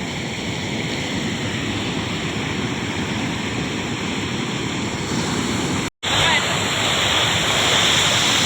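A loud, steady roar of water rushing through an opened sluice gate of a lake fills the clip, broad and constant like a torrent pouring through a channel, briefly cutting out before resuming.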